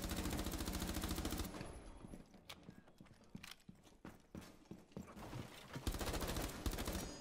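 Enemy gunfire in Rainbow Six Siege, with a loud dense burst at the start followed by scattered sharp shots and impacts, then heavy sustained firing again near the end.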